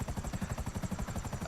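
Rotor chop from a Nagasaki Buzzard helicopter in GTA Online, a fast, steady, throbbing beat that stays close and even through the short clip.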